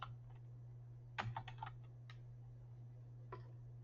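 A few quiet keystrokes on a computer keyboard, typed in a short cluster and then single taps, over a steady low mains hum with no voices.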